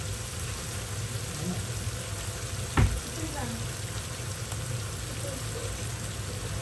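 Chicken being roasted in a pan gives off a steady, close, moderate sizzle with a single sharp clatter partway through.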